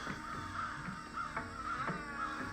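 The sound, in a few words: crows cawing in Karachi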